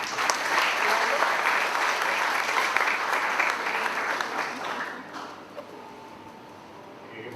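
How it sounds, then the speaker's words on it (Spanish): Audience applause at an evening session of a higher-education forum, a dense, steady clapping that fades out toward the end. "magíster Félix Andrés Restrepo Bustamante, con esos aplausos."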